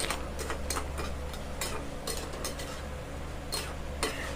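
A spatula stirs cooked snake gourd and onion in a pan, sounding as a faint series of irregular scrapes and light clinks over a low steady kitchen hum, with no voices.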